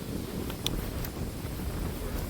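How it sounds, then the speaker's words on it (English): Steady wind buffeting the microphone at a Pennsylvania state park, with a low, rumbling roar and a few faint higher clicks, no voices present. "It's pretty windy out"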